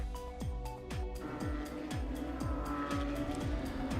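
Several IMSA GT3 Cup race cars run close behind a Porsche Panamera pace car, engines droning steadily while repeated rising and falling tones pass by one after another.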